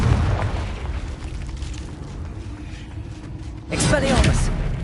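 Confringo fire spell blasts in the video game Hogwarts Legacy, a loud booming burst near the end over a continuous game soundscape and low rumble, with a player's voice talking over it.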